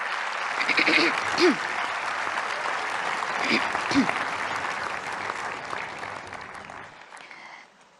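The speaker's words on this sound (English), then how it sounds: "Let's have a big round of applause for all the awardees today." Applause for the awardees at an official ceremony in India, a broad round of clapping from a large audience, briefly swelling and then fading out, with a few voices heard within it.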